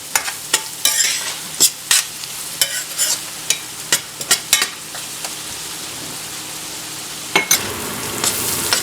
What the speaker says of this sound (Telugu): ఉల్లిపాయ చక్కగా వేగింది.